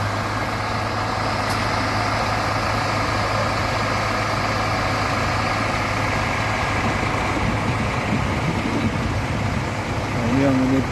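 A Scania bus engine idles with a steady, even low rumble that holds constant throughout, while people talk faintly nearby.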